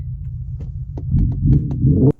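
Synthetic engine note played through the speakers of a Hyundai Ioniq 5 N electric car, a low throbbing hum with pulsing bursts that swells louder over two seconds before cutting off abruptly.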